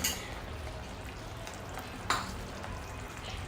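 Yogurt mixture and masala paste being stirred into paneer gravy in a pan, a soft continuous scraping over steady frying sizzle, with one sharper clink of the spoon against the pan midway.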